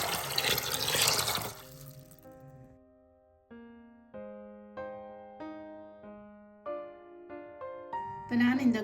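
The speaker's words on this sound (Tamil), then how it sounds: "இப்போ நான் இந்த கௌபியை 2 தரம் கழுவி எடுத்துட்டு கூட கொஞ்சம் தண்ணி விட்டு ஊற விட்டுருக்கிறேன்" Water gushes over soaking cowpeas for about a second and a half, a loud splashing pour. It is followed by a plucked, bell-like melody of separate notes.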